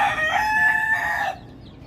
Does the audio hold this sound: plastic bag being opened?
no